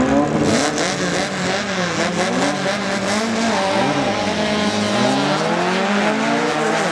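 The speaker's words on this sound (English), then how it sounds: "the dune buggy spinning the tire as he leaves" A dune buggy launching at a Pro Eliminator drag race at Silver Dollar Showdown 2006, its engine roaring loud and continuous with rising and falling revs alongside another car.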